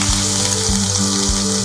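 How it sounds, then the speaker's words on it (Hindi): Finely chopped onion hitting hot oil sets off a loud, steady, close-up sizzle, with a low rhythmic hum pulsing underneath and no voices. "फिर ऑयल गरम हो गया है जी। तो हम इसमें"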